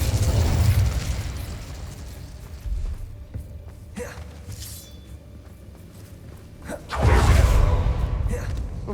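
Fire spell cast in Hogwarts Legacy, loud whooshing bursts of flame near the start and again around seven seconds, with smaller pops and crackles between and voices grunting under the action.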